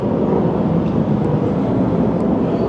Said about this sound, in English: it's an Air Force jet